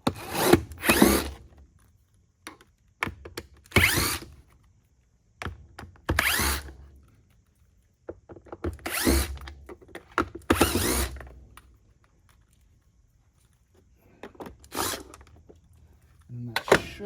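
A power drill backs screws out of a vintage orange Bissell Powerforce vacuum in short repeated whirring bursts, close and fairly loud, with gaps between them.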